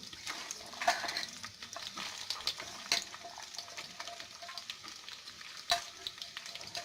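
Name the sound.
onion frying in hot oil in a pan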